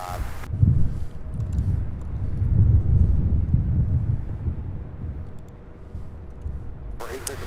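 Gusty wind buffets the microphone at an airport, a continuous low rumbling roar that swells and eases in waves, loud and close, with brief quieter moments at the start and end.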